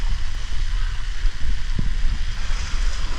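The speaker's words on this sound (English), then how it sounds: "Now we have some 10 to 15 knots of wind to the stern," Steady wind and rushing water aboard a 40-year-old wooden trimaran sailing the Pacific with all sails up, 10 to 15 knots of trade wind from the stern, a constant broad roar with low buffeting and no talk.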